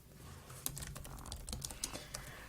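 Quick, irregular clacking of keys on a computer keyboard, close and quiet, with no voices.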